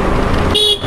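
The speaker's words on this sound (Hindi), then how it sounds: "तो हॉर्न बजाओ।" A scooter horn sounds briefly, one short close honk rising over the hum of a nearby vehicle at the end of a loud moment.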